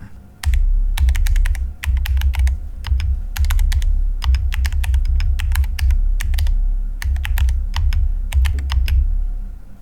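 Typing on a mechanical keyboard fitted with Dragon keycaps makes rapid, close clacks in irregular bursts, with a soft thock to each keystroke and no voices.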